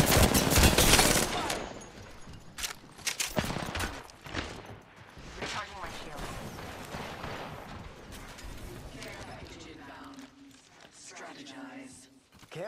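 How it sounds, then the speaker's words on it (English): Gunfire in the video game Apex Legends: a loud flurry of shots opens, then scattered, quieter bursts and distant volleys continue under a player's talking. "Getting shot at."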